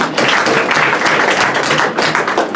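A conference audience applauds for a speaker at an authors' conference and book launch, a steady, dense wash of clapping that holds for a couple of seconds without voices.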